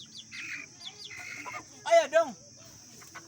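A chicken clucks and squawks close by in a few short bursts, with a brief spoken word and a steady high whine in the background.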